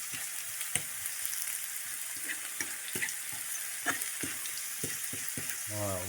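Omelette filling frying in olive oil in a pan, a soft continuous sizzle with scattered stirring clicks and scrapes, fairly quiet, with a brief voice near the end.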